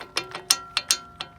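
A ratchet socket wrench loosening the axle nut on a 1996 Honda Civic, six quick mechanical clicks of the pawl at an even pace, close up and alone.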